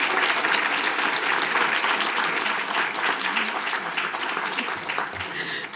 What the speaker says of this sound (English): Let's give all of our students another huge round of applause